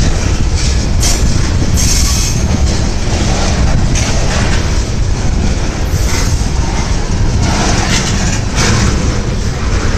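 A BNSF and Kansas City Southern freight train rolls past close by, a loud continuous roar of rail cars with clattering wheels and metallic squeals that holds steady for the whole stretch.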